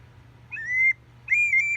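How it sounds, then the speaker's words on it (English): Two short, clear whistle tones in a row from a goose call blown straight through like a flute, bright and slightly wavering, each lasting under half a second with a brief gap between. "If I just blow through it, it's just like a flute whistle."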